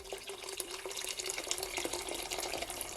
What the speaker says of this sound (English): And I'm adding at least 3 cups of water guys